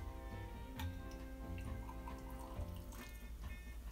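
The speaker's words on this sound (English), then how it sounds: "I am going to take this little guy here, Liefman's Fruitesse, and give that a fill" Liefmans Fruitesse fruit beer poured from a small bottle into a glass over ice, giving a continuous close trickle and fizz of liquid against the cubes over a steady tonal background.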